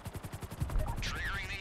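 Rapid bursts of automatic gunfire in GTA V Online, a steady rhythmic stutter of shots heard under a voice, with a helicopter-like whine rising near the end.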